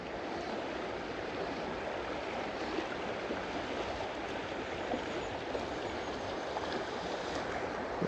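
The River Doon flows in a steady, soft, wide rush of water, with no talk, heard from a fishing spot on the riverbank.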